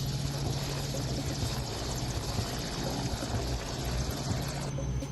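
Constant loud rotor and engine drone of a military helicopter on a relief mission over mountains in Himachal Pradesh, close and unbroken for the whole stretch.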